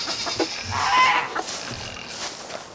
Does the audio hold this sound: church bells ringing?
no